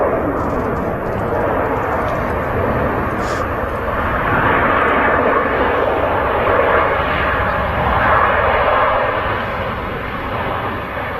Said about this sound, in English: We've also got the Virgin Atlantic A330 GV Gem waiting to use the runway